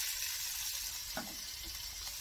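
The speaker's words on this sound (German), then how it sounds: "Zwiebeln und Tomatenmark. Mal schön kräftig abrutzeln." Onions and tomato paste sizzling hard in a hot Dutch oven after the meat is taken out, a steady, dense frying hiss with a small stir or clink partway through, no talking.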